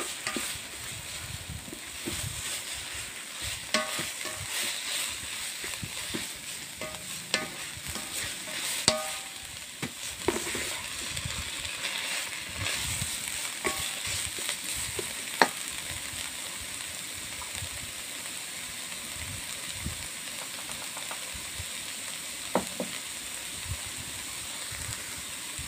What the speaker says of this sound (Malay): Kemudian terus gaulkannya biar ianya sebati, biar bau rempah kari itu menusuk.